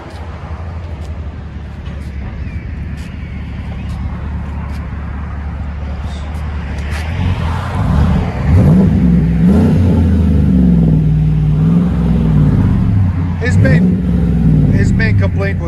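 A Chevy Silverado 5.3L V8 on true dual exhaust with 11-inch mufflers idles with a deep, steady rumble, then revs hard several times, rising and falling loudly up close while people talk over it.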